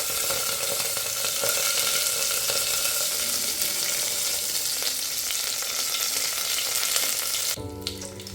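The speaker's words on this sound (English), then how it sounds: "Next in goes my curry leaves." Curry leaves crackle and sizzle vigorously in hot oil for a Fiji-style tadka dhal, a dense, loud frying hiss that continues steadily before cutting off near the end.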